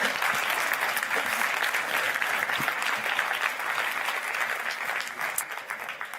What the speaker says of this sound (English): Could you please welcome them up with whatever's left of your energy and a round of applause?